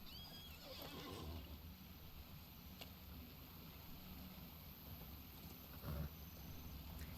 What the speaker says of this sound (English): we're going to use my handy-dandy horsey here